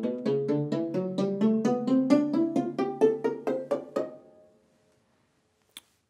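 Hammered dulcimer notes struck one after another up a Mixolydian scale on the treble bridge, an even ascending run of ringing, plucky tones that fades out, followed by a single soft tap after a pause.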